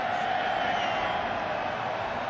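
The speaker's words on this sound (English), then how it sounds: "rise from the crowd as they give Ahman Green some rather token applause for picking up the first down" At an NFL game between the Patriots and the Packers in 2006, a stadium crowd gives a steady, distant roar of mild cheering and applause that holds at an even level throughout.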